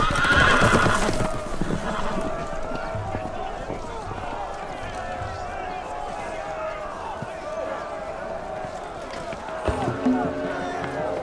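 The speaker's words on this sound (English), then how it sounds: "The horses! They're loose!" Horses whinny loudly over clattering, galloping hooves in the PS4 video game Game of Thrones, while excited voices shout nearby amid the commotion.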